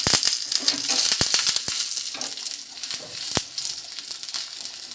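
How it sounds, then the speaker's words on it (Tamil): Crackling, popping sizzle of thinly sliced small onions (shallots) frying in hot oil for a sundakkai vathal kuzhambu, steady and close, with scattered sharp pops and no voices. "நம்ம நீல வாக்கில் நறுக்கி வச்ச சின்ன வெங்காயத்தை இதில் போட்டு"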